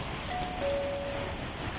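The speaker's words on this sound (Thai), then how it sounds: "อยู่กับบรรยากาศฝนตกกันเลยนะครับ" Heavy rain falls outside a coffee shop, a steady, soft hiss of drops on surfaces that runs unbroken and fairly quiet throughout, with no voices.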